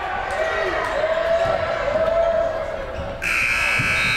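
A loud shot clock buzzer blares near the end of a busy high school girls basketball game, cutting in over crowd noise, sneaker squeaks and a commentator talking.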